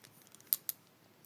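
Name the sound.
taro being cut into thin round slices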